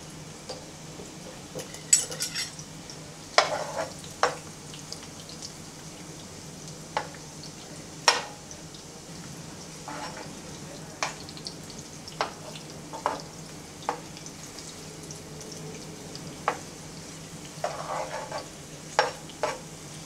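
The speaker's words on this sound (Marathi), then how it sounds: "आता कांदा टाकू थोडासा रेडिश व्हायला" Onion fries in a pan with a steady low sizzle, broken by frequent sharp clicks of a spoon stirring and scraping the pan at close range.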